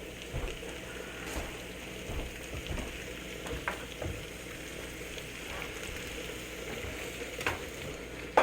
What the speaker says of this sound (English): let's throw a hard fry on these